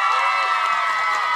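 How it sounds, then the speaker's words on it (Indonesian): Audience at a Sundanese religious lecture cheering and clapping for santri (Islamic boarding-school students), a dense, steady wash of crowd noise with shouts and claps throughout, loud and continuous. "Tepuk tangan untuk santri."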